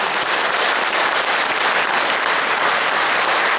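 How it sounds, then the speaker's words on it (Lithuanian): An audience at a traditional folk kapela music festival claps in thick, continuous applause. It stays loud and even from start to finish with no voices on top. "Audringais aplodismentais."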